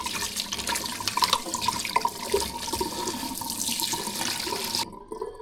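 Crabs are washed under a running kitchen tap, a steady close splashing gush with small knocks and sloshes as they are handled, until the water stops abruptly near the end.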